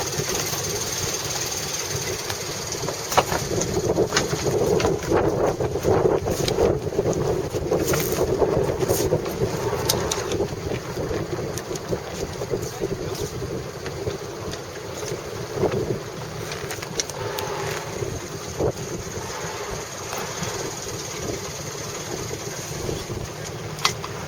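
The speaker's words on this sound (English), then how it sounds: "Now we're putting sail up before we get out of the lee of this harbour arm over there." Sailboat under way as sail goes up while leaving a harbour on an Atlantic crossing, with continuous wind buffeting the microphone, water rushing along the hull and occasional rigging clatter, no talking.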